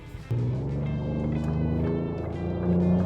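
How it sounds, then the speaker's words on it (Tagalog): A 2025 Ford Ranger Raptor V6 with its active exhaust valve open lets out a deep, steady exhaust rumble close by that jumps up suddenly near the start and swells again toward the end. "Ang tawag dyan, active exhaust valve."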